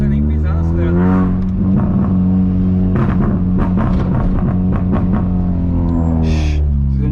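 A 1999 VW Gol G2 with a 1.0 8V engine and an HKS muffler rumbles loudly at idle on a city street, a deep, steady, close burble with a few light throttle blips.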